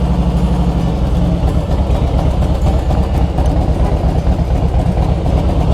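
A 2013 Harley-Davidson Softail Deluxe motorcycle idles with a loud, steady low rumble, heard close and continuous with no talk over it.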